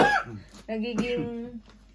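A short cough from a woman bursts out near the microphone, followed by a voiced, throaty sound like a rough throat clearing or a brief groan.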